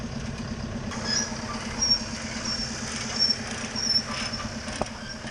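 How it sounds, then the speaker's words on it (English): A forestry mulcher's engine runs at a steady idle during land clearing, giving a continuous low hum that stays fairly even throughout, with a few faint rattles and no voices. "starts the engine"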